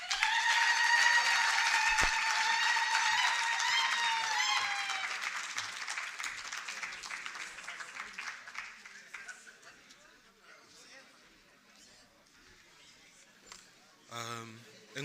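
A conference audience applauds a poet, the clapping loud at first, then thinning and fading away, with brief sounds and talk near the end.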